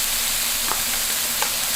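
Ham frying in a pan, a steady bright sizzle throughout with two faint stirring clicks, close and continuous without talk.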